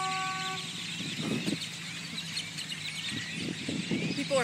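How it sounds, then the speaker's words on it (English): A car horn honks a steady tone for about half a second in a parking lot full of roosting birds, then a dense background of bird chatter and low traffic noise continues. "People are having to honk just so they can park."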